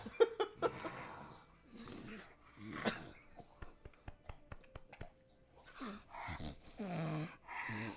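A dog snorts, grunts and breathes heavily in short bursts close to the listener, sounding pig-like, with pauses between the noises.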